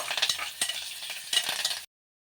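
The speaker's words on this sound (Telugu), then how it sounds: "ఆనియన్ అండ్ కరివేపాకు ఈ పండు మిర్చి ఉంది కదా వీటిని కూడా వేసేసి ఫ్రై చేసుకోవాలి కొద్దిసేపు" Onion, curry leaves and green chillies frying in a pan for soya chunk pulao, a steady close sizzle with a few scraping stirs, no voices, stopping abruptly near the end.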